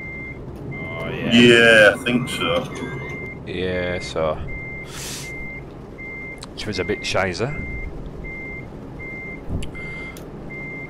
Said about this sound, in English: Who's left their truck in reverse?